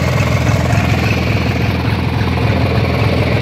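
A Craftsman T2200 lawn tractor engine idles close by with a steady, loud, low chugging pulse that holds even throughout, with no talk.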